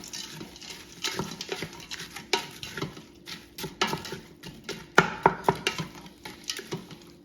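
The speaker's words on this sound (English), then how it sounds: "And continue stirring it." A spoon stirs onions, celery and carrots in a soup pot for bean soup, giving a steady run of soft scraping and clacking strokes with a few sharper knocks near the end, up close with no talking.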